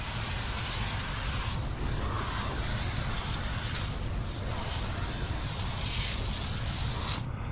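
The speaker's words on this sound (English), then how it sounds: "it'll just start spraying out regular, but that first initial blast will have some nice foam on there" An IK pump foam sprayer loaded with Diamond Brite degreaser hisses out a continuous, loud spray of foam, with a couple of brief dips in the steady rush before it cuts off at the end.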